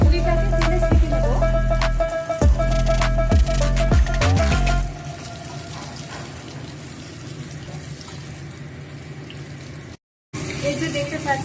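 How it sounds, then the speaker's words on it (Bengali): Puri deep-frying in hot oil on medium heat: a steady, close sizzle and crackle that follows some louder kitchen clatter, then continues evenly for several seconds. "এখন পুরিটাকে তেলে ছেঁকে নেব।"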